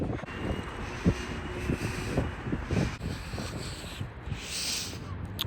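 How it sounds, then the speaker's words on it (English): Steady wind buffets the microphone in low rumbling gusts, with a constant rushing hiss running throughout. "It's so windy."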